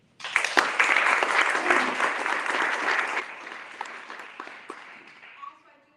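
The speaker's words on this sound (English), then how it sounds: "I do ask that you help me with a great round of applause for broadcast partner, CBS 4 and NBC 23" A crowd at a live mayoral forum bursts into loud applause that swells quickly, then thins and fades out over several seconds.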